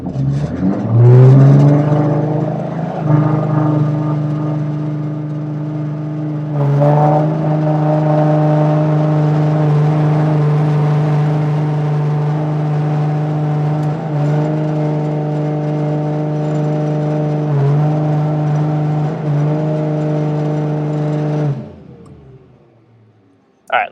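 A turbocharged E46 BMW M3 engine runs in gear on a dyno with ignition retard, a loud sustained drone that climbs in pitch, holds for many seconds with small dips, then cuts off abruptly.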